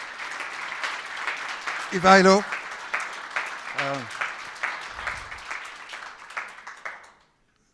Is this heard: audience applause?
yes